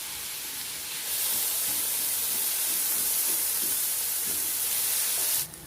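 Chopped onion sautés in oil in a pot, giving a steady close hiss and sizzle that swells after a second and then holds evenly until it cuts off, with no talking.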